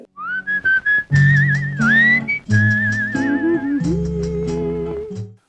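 A melodic whistled tune from a Tamil film song, sustained clear pitched whistling with slides and vibrato over orchestral accompaniment, loud and upfront without speech.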